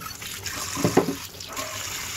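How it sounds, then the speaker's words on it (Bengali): Water runs and splashes as tilapia fish are washed clean in a large bowl, a brief burst of sloshing and rinsing near the middle over a steady low hiss of flowing water. "মাছগুলো ধুয়ে পরিষ্কার করে নিছি।"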